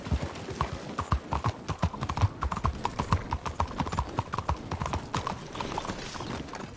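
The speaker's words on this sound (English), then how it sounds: "Giddy up. Learn to use the reins." A ridden horse gallops in the Red Dead Redemption 2 video game, its hooves pounding in fast, evenly spaced beats close by, with a brief whinny and a little speech mixed in.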